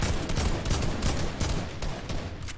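An AK assault rifle fires in Fortnite, a dense, continuous burst of rapid shots that are loud and close, with no talking over the gunfire.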